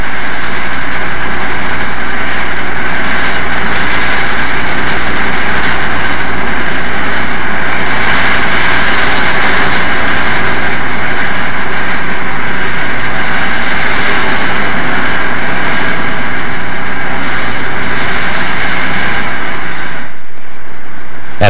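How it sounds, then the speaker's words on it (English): Southern Pacific cab forward steam locomotive 4274 hauls its train uphill through the Truckee River canyon toward Donner Pass, a loud, steady, unbroken roar and rumble that cuts off abruptly at the end. "4274 has no trouble powering her train uphill through this region as she makes her way steadily westward"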